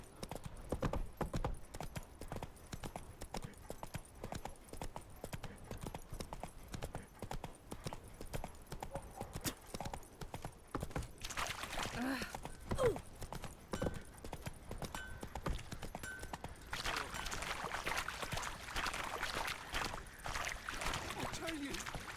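The horse Roach walks in The Witcher 3, a steady clip-clop of hooves running throughout at moderate volume, mixed with game ambience and other noise.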